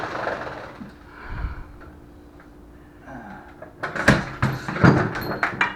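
An old exterior door is worked loose and pulled from its frame during a replacement, first a low scrape and creak, then a burst of sharp knocks, cracks and wooden clatters that are close and loud, with no talk.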